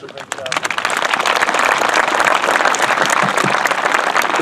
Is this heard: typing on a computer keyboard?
no